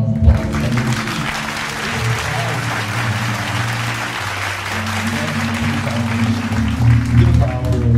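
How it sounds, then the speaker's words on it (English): Audience applause at a live event with speakers on stage, a steady wash of clapping that fills the whole span, mixed with low music or crowd voices underneath. "Give her a round of applause."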